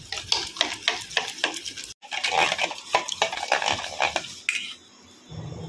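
Yogurt being beaten with a small spoonful of cornflour in a bowl, a rapid series of close clinking spoon strokes against the bowl, then a brief pause and denser scraping whisking before it fades.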